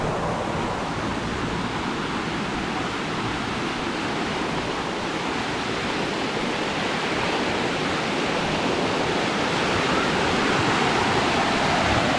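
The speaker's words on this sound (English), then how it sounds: "Some water coming out of here, eh?" Steady, loud rush of water gushing and pouring continuously, a dense roar with no pauses and no voices.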